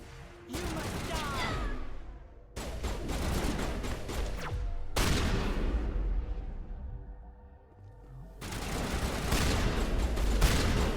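Shotgun fire in the Mass Effect video game comes as several loud, heavy blasts spaced a couple of seconds apart, each trailing into a rumbling decay over game ambience.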